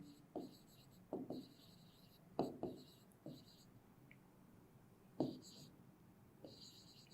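A pen or chalk writes a statement by hand during a class 5 maths lesson on rounding big numbers, giving a series of short scratchy strokes in uneven bursts, close and quiet.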